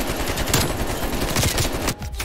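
Rapid automatic gunfire in the Call of Duty Cold War video game, an AK47 with a dense, continuous rattle of shots that fills the whole stretch before briefly dropping off and resuming.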